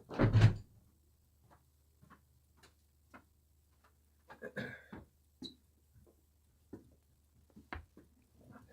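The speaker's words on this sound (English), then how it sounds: "I got to close the door." A door shuts with one firm thump at the start, followed by a quiet room with scattered faint clicks and ticks.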